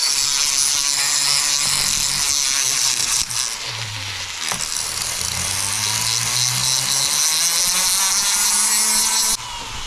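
Power tool spinning a mandrel to polish a Yamaha YZ80 exhaust, a loud continuous high whir with pitch dipping under load mid-way before cutting off near the end.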